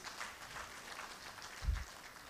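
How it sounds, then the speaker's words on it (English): Sparse, faint applause from an audience at the opening ceremony of an engineering week in Abuja, heard as distant scattered clapping with a brief louder thump near the end. "Can we please give him a more befitting round of applause?"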